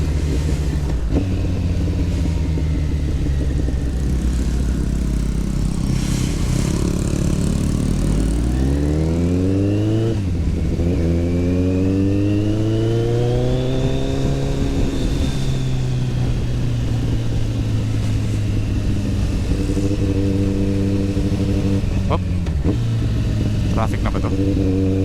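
A Kawasaki ZX14R motorcycle rides through traffic, its engine rising and falling in pitch through repeated revs and gear changes, loud and close throughout with steady wind rumble; someone talks over it at points.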